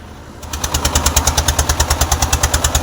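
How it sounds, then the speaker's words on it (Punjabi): A tractor engine in a homemade four-by-four vehicle starts up and settles into a fast, even diesel chugging rhythm, loud and close, with regular thumping pulses and a rattling mechanical edge. "ਇਹਦੇ ਵਿੱਚ ਦਾ ਫਿੱਟਰ ਦਾ ਇੰਜਣ ਹੈ"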